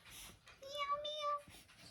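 A timid cat gives one drawn-out, wavering meow lasting under a second. It is fairly quiet against a faint background hiss.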